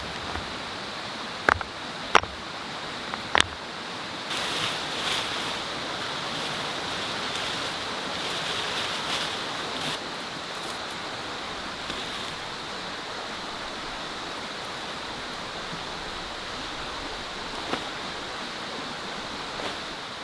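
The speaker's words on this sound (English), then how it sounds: "that's why I've come to the riverbank" A river flows over stones along a riverbank, making a steady, broadband rush of water that continues throughout, close and even, with a few brief sharp knocks near the start.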